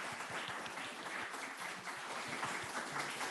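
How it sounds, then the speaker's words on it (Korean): A church congregation claps steadily at a Christmas service, a dense, even wash of applause from many hands at moderate distance with no voices standing out. "우리 아기 예수님의 우리 축하를 다시 한번 박수로 한번 축하했으면 좋겠습니다."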